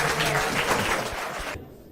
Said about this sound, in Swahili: Tupia makofi bwana mdogo.